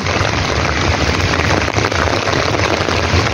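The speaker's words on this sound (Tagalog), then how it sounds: "Na-enjoy ko yung ulan." Steady rain falls on a September day, a dense, even hiss that holds at a constant level from start to finish with no voices over it.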